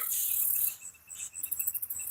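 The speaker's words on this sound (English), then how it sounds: "I hear some cicadas in the trees." Cicadas buzz in trees beside a lake, a shrill, continuous drone with pulsing swells near the end, heard alone without voices.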